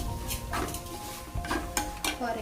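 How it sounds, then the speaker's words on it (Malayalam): A utensil stirs and scrapes onions and spices in a pan, with soft clinks and scraping strokes at an irregular pace, faint and close. "നല്ലോണം ഇളക്കി കൊടുക്കാം."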